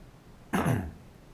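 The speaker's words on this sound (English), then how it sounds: "Clear my throat loudly." A single loud, rough throat clearing, close and abrupt, lasting under half a second against a quiet background.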